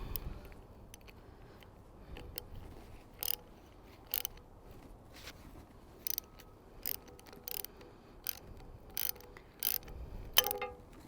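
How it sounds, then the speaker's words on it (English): A ratchet wrench with a 7mm socket turns a small screw on the thumb catch of a pair of Felco pruners, producing crisp clicking bursts in short spaced runs against a quiet background. "I'm going to be using a 7mm socket for this one to get it off."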